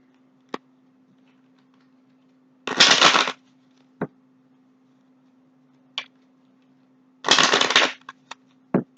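Gypsy cards being shuffled up close, in two crisp riffle bursts of about half a second each, separated by scattered single taps and clicks over a steady low hum.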